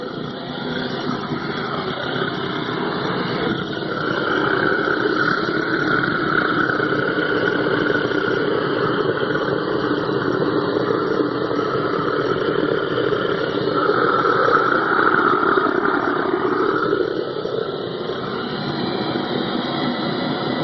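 A blower hooked up to a homemade all-fuel burner runs with a steady, loud broadband roar and hum, continuous and close for the whole stretch, with slight shifts in tone midway and no talking.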